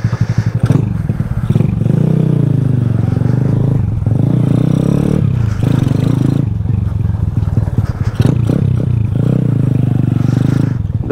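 A Honda Grom clone motorcycle on a test ride after motor mount work, its engine droning loud and close throughout with shifting revs and brief dips, like throttle changes, plus some scraping and rattling.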